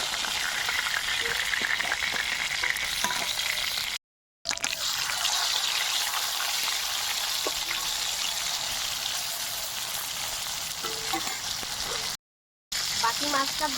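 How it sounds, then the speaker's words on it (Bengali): Scaly-skinned fish frying in oil in a pan, a continuous crackling sizzle with occasional bubbling and stirring, steady and close, with two brief silent gaps. "আর বাকি মাছগুলো ভেজে নেব।"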